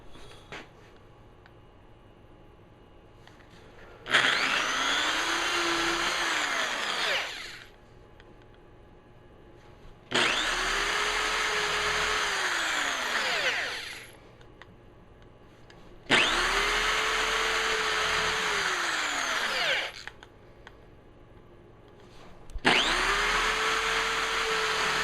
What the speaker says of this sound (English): I'll pierce these 4 holes and this one will be ready to go.